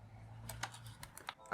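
A dirty, crunchy laptop keyboard gets a quick run of faint, uneven key presses, about eight taps with a gritty click, under a low background hum.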